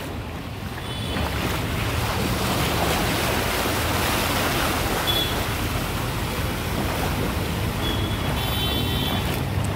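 Deep floodwater covers a road during heavy monsoon rain in Konkan, a loud, continuous rushing wash of water and wind noise that swells in and holds steady, with no talk.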